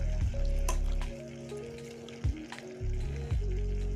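A spoon stirs chickpea tempering in a hot pan, with steady oil sizzling and frying hiss broken by a few scraping stirs and clanks, close and fairly loud with no talk.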